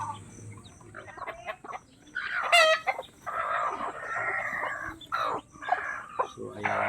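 A mother hen and her young chicks make a lively mix of clucks, chirps and a short crow at close range, with intermittent bursts of calling against a quiet background.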